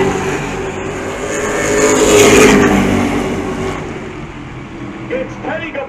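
Race cars roar past at Jennerstown speedway during a heat race, engines swelling loud to a peak and then fading as they pass, with a commentator talking over the noise.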